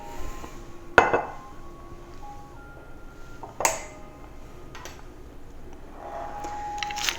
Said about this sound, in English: Again, we finish off with ice.